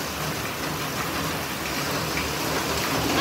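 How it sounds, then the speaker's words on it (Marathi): Heavy monsoon rain pours down in a continuous loud, close wash of noise with no pauses and no talking. "भरपूर पाऊस आहे बघा"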